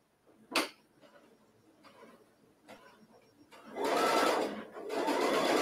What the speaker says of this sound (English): use that guide to stitch down the fabric